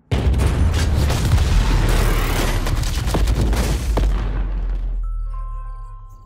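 Loud, dense barrage of booms and gunfire-like bursts from a robot combat fighter video game, continuous for about five seconds before cutting off, leaving faint electronic tones.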